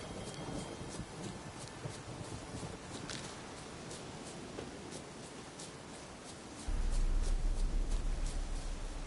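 Thunderstorm in The Witcher 3, a steady wash of rain with faint rolling thunder and a louder low rumble swelling near the end, no voices.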